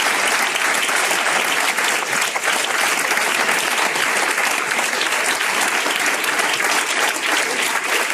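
A standing ovation for Sánchez in the Spanish parliament, dense, loud, sustained applause from many deputies clapping together without pause.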